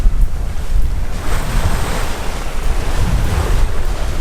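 Wind and waves rush across the deck of a sailboat under way at a close reach, with constant roaring gusts buffeting the microphone over the wash of surf, loud and unbroken throughout.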